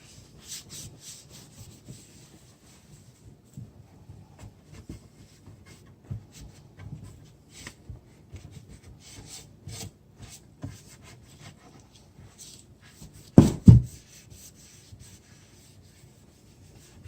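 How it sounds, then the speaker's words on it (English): Damp cloth wiping sanding residue off a wooden bass guitar body from a kit build, a quiet steady rubbing with soft scuffing strokes, brief louder handling bumps near the end, no talking. "Wipe all that sanding residue off it."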